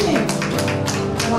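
Audience applause rolls through a hall welcoming a qigong association team at a senior-honoring awards ceremony, steady dense clapping with an announcer's voice over it.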